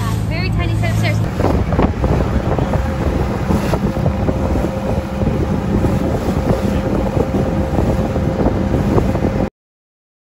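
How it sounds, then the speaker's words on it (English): Boat ride in the Maldives with steady, loud wind buffeting the microphone over a continuous engine and water rush, with faint voices underneath. "we are on the boat right now"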